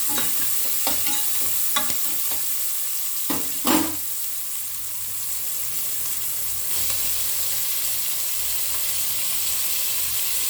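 Onions fry in a pot for chicken biryani, giving off a steady, close sizzle. Several clatters and spoon scrapes come early on, then the hiss continues alone.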